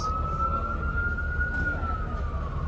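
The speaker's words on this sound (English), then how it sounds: "Oh, it's an ambulance." An ambulance siren wails steadily with a slow pitch sweep as it passes behind a car on a Denver street at night, loud and continuous over low road rumble.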